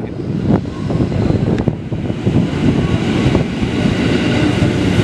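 A JR 205 series electric commuter train runs at Jatinegara station, giving a loud, steady rumble with wheel clatter and a few sharp squeals or clanks near the start, and no talk.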